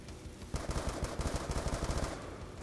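Rapid automatic gunfire from a machine gun in a Call of Duty zombies match, a dense burst of evenly spaced shots lasting about a second and a half, loud and close.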